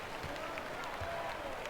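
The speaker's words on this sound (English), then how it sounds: "I feel like you're getting a lot of little golf claps going on" Light, polite applause from a basketball game crowd, a thin steady patter of scattered claps that stays quiet and continuous, with faint crowd murmur underneath.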